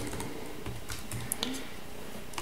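Quiet, scattered keystrokes on a computer keyboard while entering city names into a web page, a few light taps against a faint background hiss, no talking.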